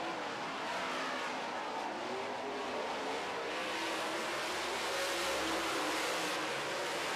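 Late model race cars roar around a dirt oval during a heat race, a dense continuous engine drone from a distance that swells slightly as the pack comes past, with no clear talk.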